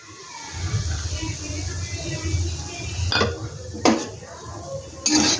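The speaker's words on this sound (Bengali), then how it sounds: "সুজিটা একটু ভালো করে ভেজে নেব ঘি দিয়ে।" Semolina fries in ghee in a pan, a soft continuous sizzle under repeated scraping and clinking of a metal spoon against the pan, heard close.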